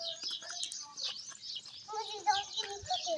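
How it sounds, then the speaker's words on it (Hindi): Birds call and chirp outdoors in a village, including a dove, in short repeated tweets and calls. A faint voice is heard in the background. "ये फाख्ता की आवाज़ है जो बोल रही है।"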